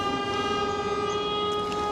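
Train horns sound in a long, steady blast of layered tones, loud and continuous with no gaps and no voices.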